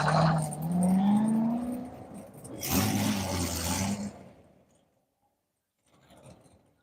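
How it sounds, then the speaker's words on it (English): A Toyota Supra drives an autocross course at Grissom Air Force Base, its engine roaring and rising through a pass before fading into quiet, then a faint distant return. "heading out in his Supra"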